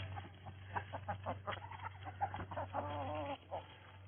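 Hens clucking and murmuring close by in a backyard in December, a few soft calls overlapping, over a low steady hum.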